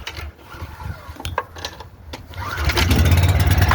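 Pull-start generator engine being started: a few rattling pull strokes, then the motor catches and settles into a loud, steady running drone close by.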